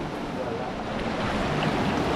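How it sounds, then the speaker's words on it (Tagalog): Water rushing hard through a hole-like channel toward Laguna makes a steady, loud, broadband roar that stays constant throughout, with wind buffeting the microphone. "Rumaragasa yung tubig patungo sa Laguna."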